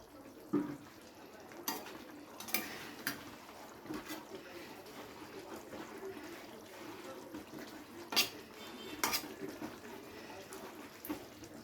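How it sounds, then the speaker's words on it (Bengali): A spatula stirs pointed gourd (potol) through spiced gravy in a pan, giving quiet scraping and a few soft, irregular clinks against the metal. "এবারে হালকা নাড়াচাড়া করে মিশিয়ে দেবো গ্রেভির সাথে পটলগুলোকে।"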